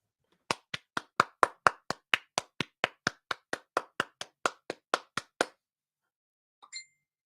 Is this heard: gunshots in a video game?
no